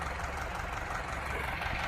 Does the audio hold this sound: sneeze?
no